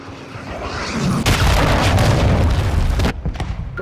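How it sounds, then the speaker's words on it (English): A cruise missile explosion in Call of Duty MWII: a loud, close, sustained rumbling boom that swells and roars for a few seconds, then cuts off into scattered crackling debris. "Hostile cruise missile incoming!"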